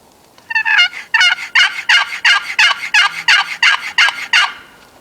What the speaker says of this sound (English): let me go ahead and run you a Yelp and I'll show you how it sounds